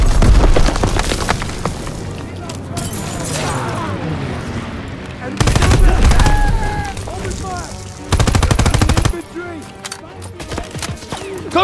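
Call of Duty WWII firefight: repeated gunfire bursts and rattling automatic weapons with booming impacts, loud and close, alternating with quieter stretches, while soldiers shout orders over the shooting.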